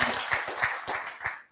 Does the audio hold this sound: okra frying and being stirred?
no